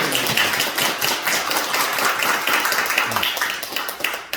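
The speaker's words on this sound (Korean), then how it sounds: "박수!" A church congregation at a Sunday service breaking into sustained, dense applause, many hands clapping steadily throughout, moderately loud with a faint voice underneath.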